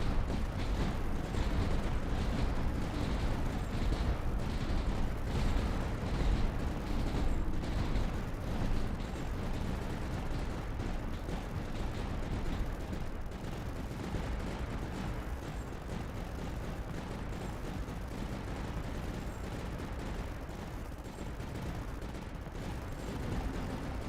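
Light mortars fire continuously in the strategy video game Tower Dominion, a dense, steady roar of overlapping blasts and rumbling booms that holds loud and constant for the whole stretch.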